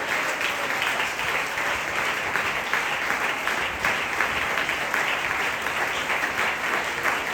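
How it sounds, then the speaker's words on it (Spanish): A church congregation applauds during a Sunday morning service, sustained dense clapping that rolls on evenly without a break, filling the room at a steady moderate loudness. "Un aplauso de esta mañana al Señor del cielo"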